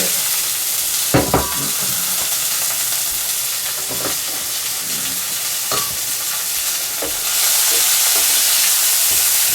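Mung bean omelet batter of sprouted mung beans and egg sizzles and fries steadily in a hot pan, with a few sharp stirring scrapes and clinks over the continuous crackle, which grows slightly louder near the end.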